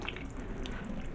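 Apple juice drips and trickles from cheesecloth being squeezed during hard cider making, a quiet, close wet patter over a soft constant background.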